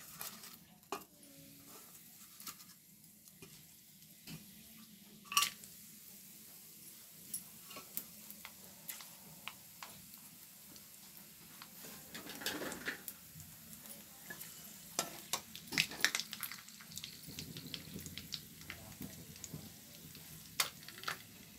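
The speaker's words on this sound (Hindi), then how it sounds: "इसी तेल में मैं बनाऊंगी मैं यहाँ पे तेज पत्ता ले रही हूँ और खड़ा मसाला" Bay leaf and whole spices fry in hot oil left over from frying paneer, a steady soft sizzle under frequent light stirring clicks and utensil taps against the pan.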